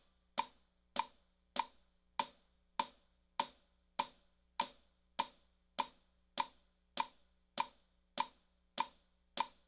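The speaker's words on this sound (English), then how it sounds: "you're going to hit your hi-hat on the quarters and the ands" A drumstick strikes a hi-hat in a steady, even stream of crisp ticks, about two per second, clean and alone in a quiet room.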